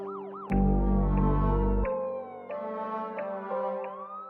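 A loud siren blares near the start, holding a sustained tone with a deep hum, then continues in shifting, stepped wails that fade slightly toward the end.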